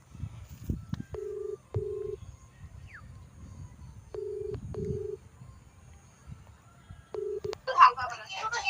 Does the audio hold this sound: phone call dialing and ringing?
yes